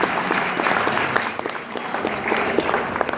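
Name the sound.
convention audience applauding the crew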